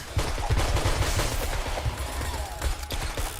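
Automated turrets firing in the 7 Days to Die video game during a horde attack, a steady stream of rapid shots close by and loud, continuing without pause and with no talk over it.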